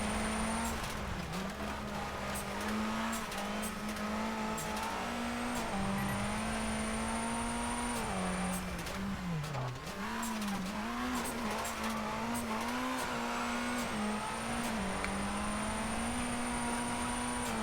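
A Saab rally car in the Colin McRae: DiRT video game, its engine droning steadily with rising and falling revs as it is thrown around a stage, with tire skids, loud and continuous throughout.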